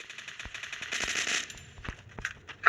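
Rapid automatic gunfire from a long-range weapon in the Free Fire mobile game, a fast rattling burst of shots with metallic game effects, moderately loud and clear with no talk over it.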